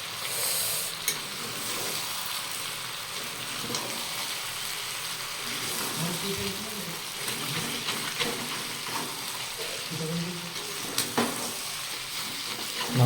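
Meat being sautéed in a pan while the cook stirs it, with a continuous frying sizzle and occasional scraping and clinks of the spoon against the pan, close and steady with no talking.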